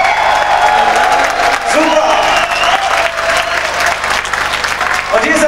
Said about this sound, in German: Ich finde, er hat ein bisschen mehr Applaus verdient als hier aus den ersten 10 Reihen